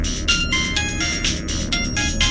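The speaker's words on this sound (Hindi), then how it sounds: "अचानक मेरे फोन की घंटी बजती है" A melodic electronic ringtone plays in repeated short bursts, loud and close, with no voices.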